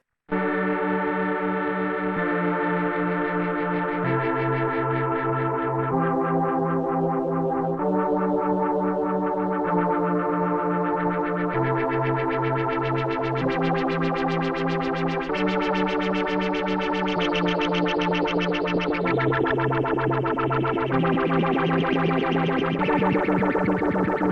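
Sustained synth chords stepping through changes, run through a Sherman FilterBank V2 with stereo filter cutoffs modulating in opposite directions, giving a shifting, sweeping filtered tone that widens and moves throughout, loud and continuous with no voices.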